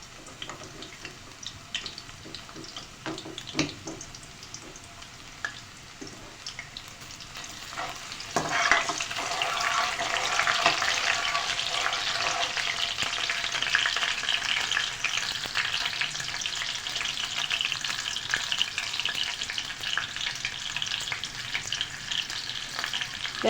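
Chopped garlic sizzles steadily as it fries in mustard oil for a pearl millet chutney, with a few stirring clatters early on before the frying hiss swells louder and fills the rest of the stretch.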